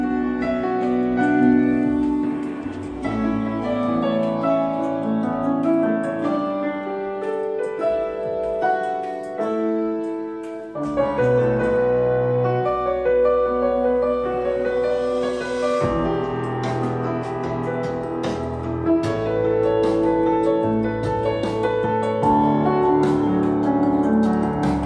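Music from a CD plays through a MicroMega MyDac over its coaxial input, a full, continuous instrumental passage with shifting layered tones and no talking.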